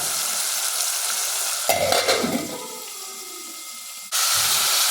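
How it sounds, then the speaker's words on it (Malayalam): Tomato, green chili, garlic and ginger sautéing in a pan, a steady bright sizzle broken by a burst of stirring and a lull before the frying hiss returns loudly. "തക്കാളിയും പച്ചമുളകും വെളുത്തുള്ളി ഇഞ്ചിയും ഒക്കെ ഇട്ട് റെഡിയാക്കിയിട്ടുണ്ട്. നമുക്കൊന്ന് വഴറ്റി വരട്ടെ."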